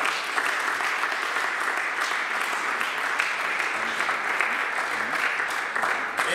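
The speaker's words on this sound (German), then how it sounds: "Lasst uns dem Herrn einen Applaus geben." A church congregation claps in sustained, dense applause for several seconds, filling the hall evenly with a faint undertone of voices.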